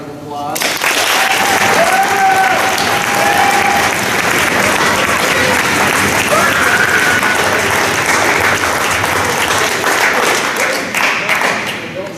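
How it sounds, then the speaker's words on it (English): Loud, sustained applause and cheering for the seniors fills a wrestling team banquet room, continuous for about twelve seconds, with voices calling out within the crowd. "Okay, I want you all to give these seniors a nice round of applause."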